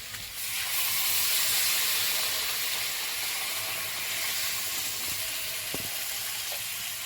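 Hot water hisses and sizzles as it is poured into a hot pot of mutton fat curry with young jackfruit, a steady steamy hiss that settles into a quieter simmer with faint clinks.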